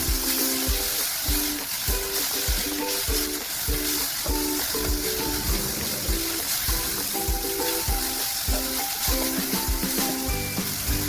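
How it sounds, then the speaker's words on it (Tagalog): Garlic, onion and tomato sizzle steadily in a hot pan for a stir-fry, with a spatula scraping and stirring in a repeated rhythmic pattern throughout, close and fairly loud. "Halo-haluin lang natin"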